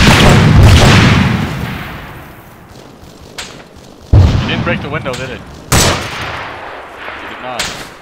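Video game combat in Arma 3: a loud close grenade explosion booms first, then fades before sharp bursts of gunfire crack out in separate heavy hits.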